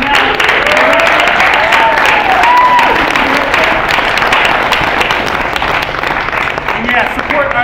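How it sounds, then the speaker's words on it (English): Poetry slam audience applauding steadily throughout, a dense, loud wash of clapping with faint crowd murmur and a few voices mixed in. "please give a round of applause for Apollo the Child and Daniel Mark Madison"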